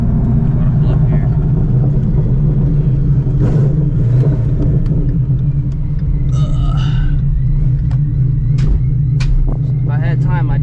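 A supercharged 1,000-plus horsepower Shelby GT350 idles with a deep, loud, steady rumble as it pulls up, while someone talks over the engine.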